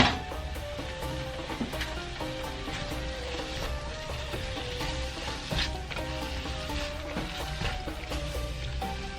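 Peppers and garlic sizzle and fry in a pan for shakshuka, a Middle Eastern egg breakfast, with a steady close crackle and occasional clinks of stirring utensils throughout, no voices.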